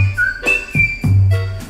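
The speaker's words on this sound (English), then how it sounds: "I'm gonna be the whistle in the Animal Crossing soundtrack" A person whistles a short melodic phrase from the Animal Crossing soundtrack, a few clear rising and falling notes, close and loud over a low background hum.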